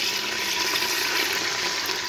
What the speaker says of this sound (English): I'm pouring the liquid in there